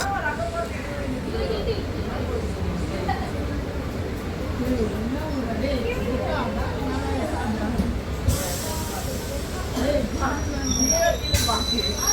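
Local train running from Attipattu Pudhu Nagar toward Chennai Beach, close continuous rumble of carriages with wheels squealing on the rails and voices talking over the noise.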